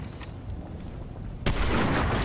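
Gunfire in a Fortnite match, a sudden loud burst of rapid shots that cuts in after a stretch of low game noise and continues to the end.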